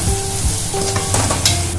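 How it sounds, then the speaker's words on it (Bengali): Onion, ginger and garlic paste fries in hot oil in a pan for a chicken curry, a loud close sizzle with brief stirring scrapes. "এবার ওই বাটা মশলাটা দিয়ে দিলাম, পেঁয়াজ আদা রসুনের মশলাটা কষাবো আমি একটু"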